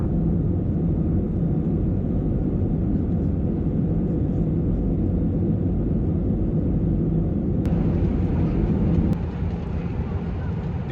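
Broadband airliner cabin roar during the descent toward Zurich, a steady, loud, dense rumble that holds constant throughout with a slight shift in tone near the end.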